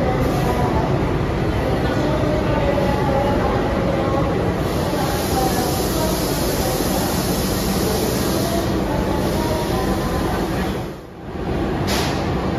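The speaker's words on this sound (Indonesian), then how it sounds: "Kereta api Gumarang tiba di stasiun Semarang Tawang" The Gumarang passenger train arrives at Semarang Tawang station with a loud, steady rolling rush and hiss close by, dipping briefly near the end, with people talking over part of it.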